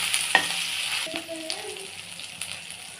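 Elephant yam pieces fry in a pan with salt while a spoon stirs and scrapes through them over a constant close sizzle, with a couple of metallic clinks.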